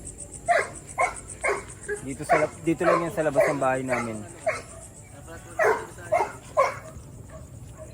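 A dog whimpers and yips in short repeated bursts, with a person talking over and between the sounds.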